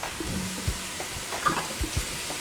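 Butter melts in a pan with garlic, onion and seasoned pork, a soft steady sizzle up close with a few light knocks of a spoon stirring.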